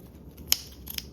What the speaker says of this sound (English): Then you can trim the remaining of your zipper tape